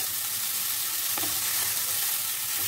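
Shredded cabbage and carrot being stirred in a hot pan for veg spring roll filling, giving a dense, even sizzling hiss with a faint scrape of the spatula partway through; no talking.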